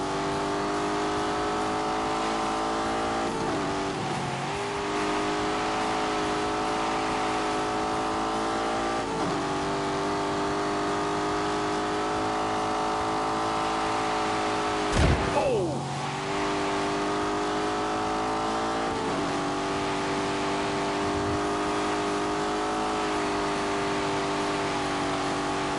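A car engine pulls hard up a hill in low gear, a steady loud drone with harmonic strain that holds throughout, dipping briefly partway through before resuming its effortful climb.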